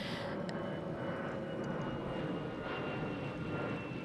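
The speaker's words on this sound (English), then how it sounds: "Here comes another plane." A fixed-wing airplane passes overhead outdoors, its engine a steady, broad, continuous roar that holds at an even level throughout.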